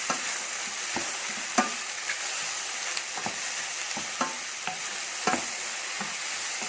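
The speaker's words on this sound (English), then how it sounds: "you can also drop a piece of beef cubes" Beef cubes fry in a hot pan with a steady, loud, close sizzle, broken by regular soft knocks and scrapes as they are stirred.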